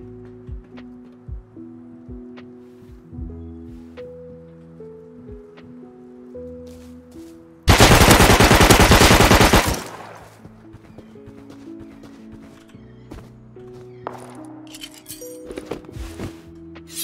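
A loud burst of rapid gunfire in a counter-raid video game, lasting about two seconds midway, standing alone over a low background of ambient tones and scattered small clicks.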